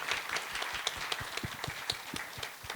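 Applause from a panel event audience at a conference, a busy run of many hands clapping with irregular sharp claps standing out, continuous and moderately loud with no voices.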